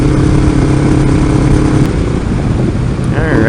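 Kawasaki Ninja 500R motorcycle riding along a road, its engine a loud steady drone under heavy wind rush throughout.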